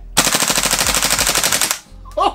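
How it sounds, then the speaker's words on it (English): Full-auto burst from an Umarex KWA Tavor TAR-21 flattop gas blowback airsoft rifle, downgraded for CQB: a loud, rapid rattle of about twenty cracking shots over roughly a second and a half, then a short pause and a brief extra noise. "during that little burst of full auto, the FPS was all over the place"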